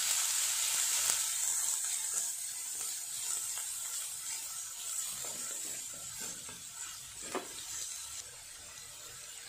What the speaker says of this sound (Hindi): जो मैंने बारीक पत्ता गोभी कट करी थी इसको मैं सबसे पहले ऑयल में डाल दूंगी और इसको बहुत अच्छे से हम फ्राई कर लेंगे